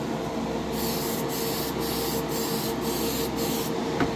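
Tamiya lacquer primer hisses steadily from an airbrush or spray onto a scale model in thin coats, a close, continuous airy spray with faint rhythmic dips and no voices.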